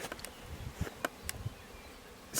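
Honey bees buzz around the entrance of a farm beehive, a faint, scattered hum with a few brief, nearer passes of single insects flying close by.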